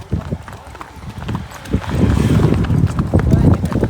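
Several horses trotting together on a ride, hooves clip-clopping in a quick uneven rhythm that grows louder and denser, with people talking over it.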